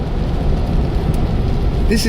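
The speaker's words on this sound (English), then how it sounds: "This is like you're driving through a cloud of rain." Heavy rain drums steadily on a car as it drives through a dense downpour in the Pacific Northwest, a loud, continuous hiss and patter with road noise underneath for about two seconds.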